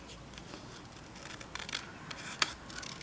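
Scissors snip through paper while cutting out a candy cane shape for a Christmas card, a few faint, crisp cuts close up in a quiet room, with one sharper snip near the end.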